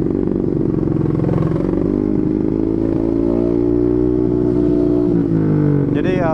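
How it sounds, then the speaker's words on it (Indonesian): Steady rumbling drone of a Honda Beat 125cc scooter with an Empush EM1 round exhaust while riding, loud and close, with a rider's voice talking over the engine throughout. "kita jalan-jalan aja sambil dengerin suara dari Empus EM1 ya"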